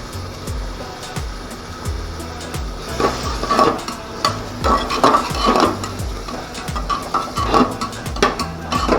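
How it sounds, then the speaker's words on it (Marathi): Onion and tomato frying for pav bhaji are stirred hard in a pan, a loud, rhythmic run of spatula scrapes and metallic knocks repeating every half second over a constant sizzle. "कांदा घालून घ्यायचा आता आपण टोमॅटो घातले टोमॅटो पण हलवून घेऊया"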